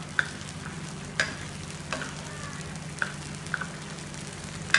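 A utensil stirs and mixes ingredients in a pan for santol sauce, clicking and scraping at irregular intervals over a soft, steady sizzle, close and fairly quiet with no voices.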